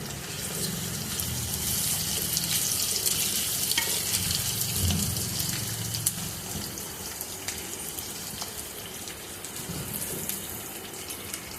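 Biryani ingredients frying in a hot pan, a continuous bright sizzle with stirring scrapes and shifting crackle, close and steady, no voices.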